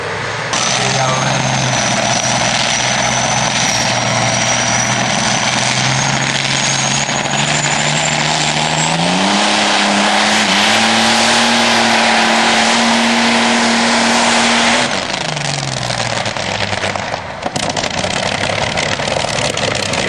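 At a tractor pulling competition in Haapajärvi, Finland, a heavily modified pulling tractor with an engine of eastern origin roars loud and close, its pitch climbing and holding under load before dropping away, with talk over it.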